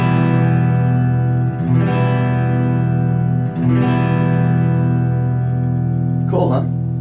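A guitar minor chord is strummed across every string three times, each strum ringing on in a sustained wash before the next, the last one brighter and choppier.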